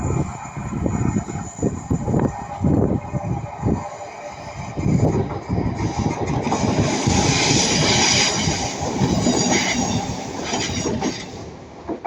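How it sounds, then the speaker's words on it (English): A Northern Class 323 electric train heading for Manchester Piccadilly rolls past at Ardwick, a loud close rumble with rhythmic wheel clatter over the rail joints and a faint metallic squeal building as the carriages go by. "passing by now the Northern Class 323, going to Manchester Piccadilly from Hatfield"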